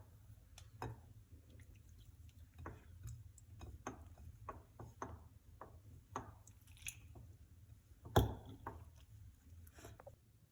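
Maida dough for samosa, made with salt, water and a little butter, is kneaded by hand, giving soft, close, irregular squishing and slapping sounds with small ticks and one sharper knock, and no voices.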